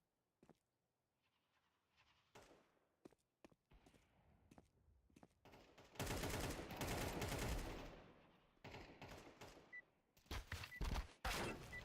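Gunfire in Counter-Strike 2 on the Mirage map, starting as sparse sharp cracks and building into dense, loud bursts of rapid shots, with several separate volleys toward the end.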